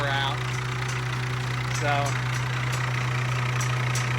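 A car engine idles steadily with worn, loose drive belts that flop around, giving a constant low hum with faint rhythmic ticking; someone speaks briefly over it.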